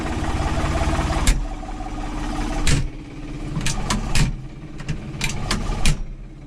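A farm tractor engine runs steadily at low idle on a snowy day before spreading fertilizer on ryegrass. The chugging hum continues under a series of sharp clicks and knocks.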